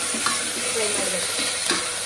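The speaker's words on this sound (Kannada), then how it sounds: "ಫ್ರೈ ಮಾಡಬೇಕು." Peas and carrots frying in a hot pan give a dense, continuous sizzle, with soft scraping stir strokes at intervals across two seconds.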